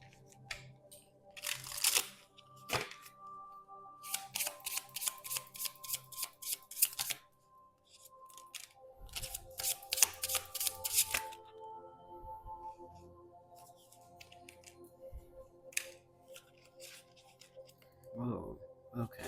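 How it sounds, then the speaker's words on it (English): Tarot cards being shuffled in several brisk riffling bursts, close by, with pauses and soft handling noises between them. "we'll see when I start shuffling through"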